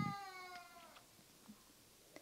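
A cat gives a single short, faint meow at the start, followed by quiet room sounds and a few soft clicks.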